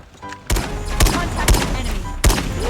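Rapid SKS rifle fire in Call of Duty Mobile, four punchy close shots at a steady half-second rhythm, each with a crisp crack and short rumbling tail, over faint game ambience.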